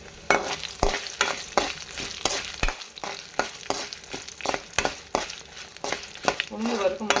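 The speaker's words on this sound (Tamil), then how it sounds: "உளுந்து இந்த மாதிரி பொறிஞ்சு வந்ததும் நம்ம வந்து ஒரு அஞ்சு ஆறு வந்து வரமிளகாய் சேர்த்துக்கலாம்" Urad dal and dried red chillies fry in oil for a pirandai thuvaiyal, a soft crackling sizzle punctuated by regular, fairly quick scraping stirs of a ladle against the pan, close by and without talking.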